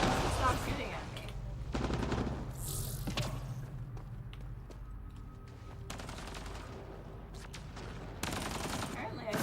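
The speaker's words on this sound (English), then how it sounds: "Somebody's shooting at us." Gunfire in Mass Effect Andromeda, repeated bursts of shots and impacts spread across about nine seconds over a constant battle background, fairly close and moderately loud.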